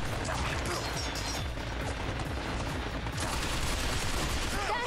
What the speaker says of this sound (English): we're being fired on from two directions